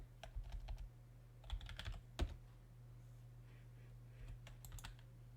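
Typing on a computer keyboard, with quick bursts of close, quiet key clicks, a few pauses between them and a low steady hum in the background.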